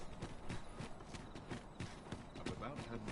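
Horse hooves clop in a steady rapid rhythm in a video game, a continuous gait heard alongside game ambience and faint voices.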